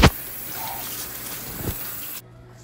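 Warm water runs steadily over a bleached hair bundle, a continuous close rushing spray with a brief splash near the end before it cuts off, no talking.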